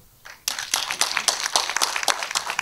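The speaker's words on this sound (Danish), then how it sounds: "Klap!" At an open mic night in Sønderborg, a small audience breaks into clapping after a brief quiet moment, with scattered, uneven claps that carry on to the end.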